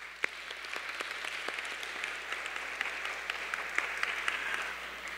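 Inside a church, the congregation gives a steady round of hand claps, many people clapping at once in an even, moderately loud spatter with a low hum underneath and no voices over it.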